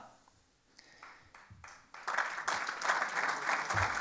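Supporters at a Socialist party rally in Vitoria start with a few scattered claps that quickly swell into loud, full applause from the crowd, which then continues steadily.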